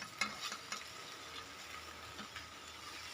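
Tomatoes sautéing in a pan for a Tamil vendakkai pachadi, giving a soft, steady sizzle with a few light scrapes of a spoon stirring, close and fairly quiet with no talking.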